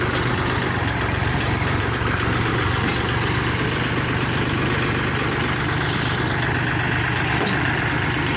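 A Kubota L4018 tractor fitted with a dozer blade and disc harrow runs steadily at idle, a loud, unbroken low diesel rumble heard up close with no pauses.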